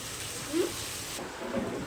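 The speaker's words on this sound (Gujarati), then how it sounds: "તો આવી ગયો વરસાદ બહાર આપણું બાઇક પલડે પણ હો" Rain falls outside in a soft, steady wash, with a couple of low thuds rising briefly over the patter. A parked motorbike stands out in it.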